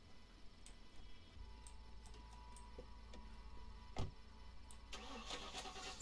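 In the video game The Last Stand Aftermath, a car engine cranks but fails to start. The sound is quiet and mechanical, with a single sharp thump partway through and a rougher burst near the end.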